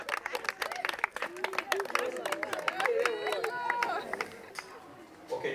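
An audience at an outdoor street theatre play in Kenya about diarrhoeal disease claps and cheers, sharp scattered handclaps at first, then lively crowd chatter and excited voices mixed with further clapping at moderate distance.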